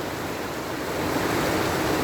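Flowing water at Massie's Creek, a nature preserve stream, gives a steady broadband rush that rises slightly in level partway through, continuous and fairly close, with no voices.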